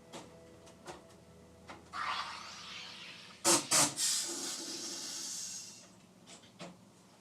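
A home soda water maker carbonates water with a rising, sustained hiss of gas, then sharp loud bursts of venting, settling back to a softer hiss that fades out; a few faint clicks come before and after.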